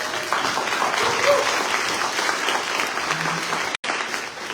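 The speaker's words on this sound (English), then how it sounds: "Round of applause for that." Evening awards event audience honoring a 30-and-under class breaks into loud, continuous applause, a thick wash of clapping with a brief dropout near the end.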